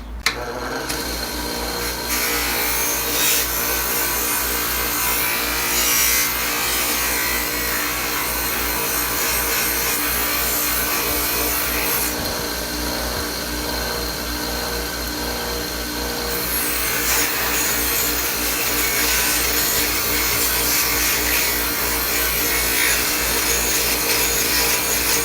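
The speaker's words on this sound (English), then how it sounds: "Then I move on to a less abrasive wheel here, and this will kind of do the final cleanup for me." A less abrasive wheel doing final cleanup on steel armor sabatons, a dense continuous grinding and rubbing roar that runs unbroken and loud throughout, close to the work.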